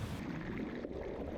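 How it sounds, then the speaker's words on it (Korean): A motorboat heads out from seagrass beds toward coral-reef sea, a steady dull engine and hull drone with rushing water and wind, moderately loud and continuous with no voices. "잘피 해역을 벗어나 산호초의 바다로 보트를 타고 나가봤다."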